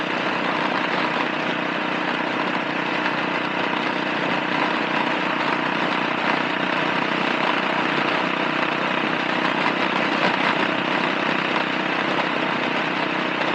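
A Suzuki S40 Boulevard motorcycle cruising at around 50 to 60 mph gives a steady, loud, continuous engine drone mixed with broadband wind rush, unbroken and without speech throughout.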